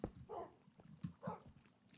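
Dogs barking and yipping in a Minecraft game world, several short, moderately loud barks spaced irregularly with brief whimpering sounds between them.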